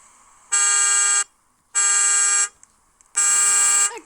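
Three loud, sustained electronic car alarm tones, each lasting under a second with short silent gaps between them, close and clear with no talking over them.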